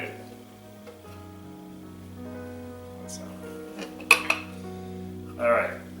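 A utensil stirring garlic in a pot for vodka sauce, with a couple of sharp metallic clinks against the pot midway and a light scrape later, over a low humming background.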